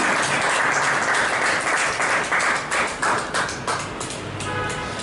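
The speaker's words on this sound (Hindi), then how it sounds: "तालियां एक बार उस हिसाब से भी बज जानी चाहिए" An audience at a poetry gathering claps, a fairly close round of applause with individual claps audible, steady for a few seconds and then easing.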